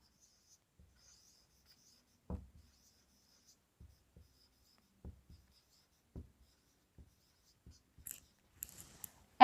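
Pen scratching on paper while an exam report is written out, a handful of short sparse strokes and taps spread across a quiet background.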